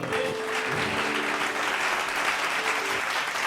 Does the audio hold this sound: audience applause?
yes